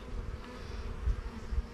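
Florida mutt honey bees, a mixed-heritage colony, hum in a steady low drone close by, with a couple of slightly louder swells near the end and no talking.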